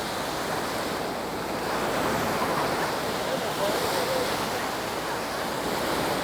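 Waves wash onto Sai Kaew Beach on Koh Samet, Thailand, in a continuous surf rush that stays fairly loud and close, with wind noise buffeting the microphone.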